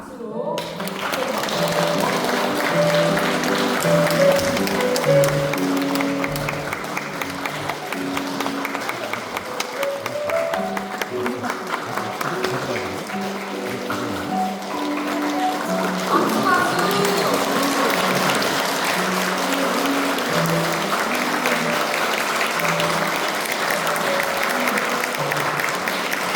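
Audience applause at a Won Buddhist dharma-rank promotion ceremony, sustained and fairly loud throughout, with voices and some music-like tones mixed underneath.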